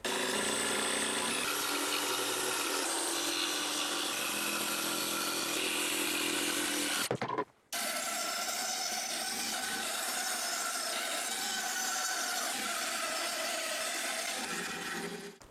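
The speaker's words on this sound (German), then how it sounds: "werde ich mit der Bandsäge einfach mal aussägen und hier in der Mitte mit der Stichsäge" A power saw, a band saw and then a jigsaw, cuts through wood in a workshop, a loud continuous buzzing whine that stops briefly partway through and then resumes with a similar harsh cutting drone.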